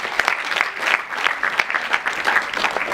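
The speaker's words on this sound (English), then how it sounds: "A round of applause" An audience at a Model United Nations closing ceremony claps in a short, close round of applause, with individual claps standing out in an uneven rhythm.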